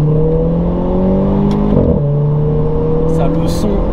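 Renault Clio 4 RS with RS16 bodykit, engine revving hard as it accelerates through the gears, loud and close from inside the car, pitch climbing, dipping at a shift near two seconds, then rising again.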